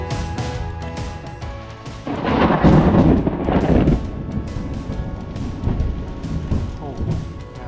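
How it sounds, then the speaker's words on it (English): A thunderstorm with rain rolls outside a roofed shelter during a bike tour across Eastern Canada, a deep loud thunder rumble swelling and fading over steady rainfall, close and with no voices. "there was a pretty decent thunderstorm"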